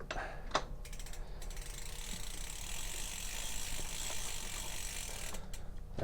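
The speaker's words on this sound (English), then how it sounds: "Now it's on there, I'm gonna use the pedal wrench." Pedal wrench tightening a pedal on a 2018 Specialized Camber mountain bike, a steady close mechanical whirring and clicking of the drivetrain turning, with a couple of sharp metallic ticks.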